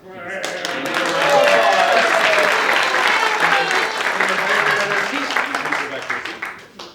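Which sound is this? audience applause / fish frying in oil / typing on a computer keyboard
audience applause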